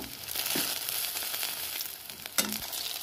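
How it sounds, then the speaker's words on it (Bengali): Panta bhat, soaked leftover rice, lightly frying in a wok, giving a soft steady sizzle with scraping stirs and a sharp clack near the end, fairly close and with no talking. "ভেজে নিচ্ছি হালকা করে, এবার আমি কড়াতে ভালো করে চেপে দেবো।"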